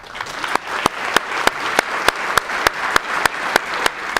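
An audience at a young readers' writing event claps steadily, with a dense patter of hands and a few sharp, regular louder claps standing out near the front throughout.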